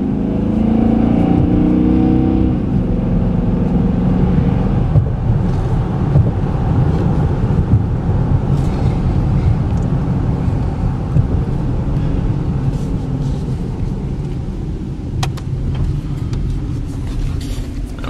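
A 2013 Dodge Charger R/T, a repairable salvage car, cruising in a straight line on the road, giving a steady low engine and road rumble with wind noise throughout, loud and continuous with no talk.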